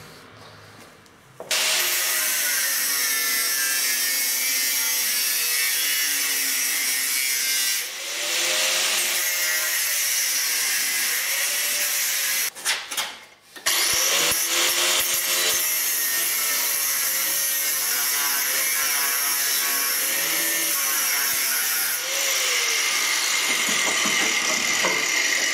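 A power tool cuts through metal while an exhaust flange and support bracket are removed, a loud, rough grinding drone in long sustained passes broken by brief pauses and short bursts, with no talking.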